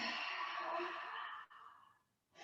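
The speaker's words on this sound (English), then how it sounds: "Exhale to push all the air out of your lungs." A single long, forceful breath pushed out through the mouth during a breathing exercise, close and steady for about two seconds before tapering off, followed by the start of a fresh intake.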